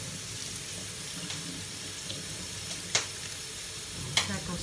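Couscous semolina being rinsed under running tap water in a sink, a steady wash of flowing water with a couple of sharp clinks near the end.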